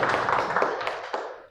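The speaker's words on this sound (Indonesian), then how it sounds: "tepuk tangan buat Bella" A classroom of students gives a short burst of applause for a classmate, quick close claps in a dense cluster that fades out within a second and a half.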